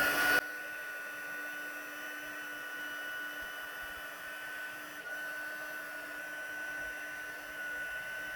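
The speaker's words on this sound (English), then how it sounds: "I'm going to turn my heater gun on to the highest heat, and I'm going to melt all that embossing powder" A heat gun set to its highest heat, melting embossing powder on a stencilled card, gives a steady, close blowing roar that runs unbroken from start to finish with no talk.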